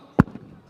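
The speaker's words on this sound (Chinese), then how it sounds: "我们乡长已经率先点炮了" A single ceremonial firecracker set off at the opening of a township village-school sports day, one sharp close bang with a short fading tail and no voices.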